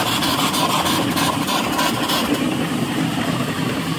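A steam donkey logging yarder engine runs slowly with its pet cocks open, giving a steady, loud hissing churn with a faint rhythmic chuff and no talking.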